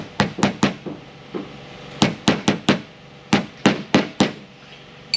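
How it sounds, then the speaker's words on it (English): A hammer taps a bushing driver to seat a power steering pump bushing on a 24 valve Cummins, in quick bursts of three or four sharp, ringing metallic strikes separated by short pauses. "we got a bushing driver here. I'm just gonna tap that in."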